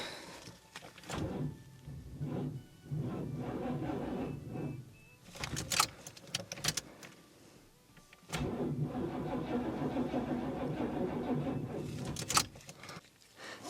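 A 1975 Cadillac Luxury engine cranks in short bursts with starter fluid, then catches and settles into a steady, close running rumble for the last several seconds.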